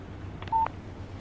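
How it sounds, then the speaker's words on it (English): A phone text message alert from the video game Alan Wake gives a short pair of electronic tones, clear and close, in an otherwise quiet moment. "Text message from Barry."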